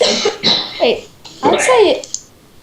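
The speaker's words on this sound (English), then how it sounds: "If you're wondering what that noise is, I just coughed." A person coughs twice in short, sharp bursts close to the microphone, with brief speech in between.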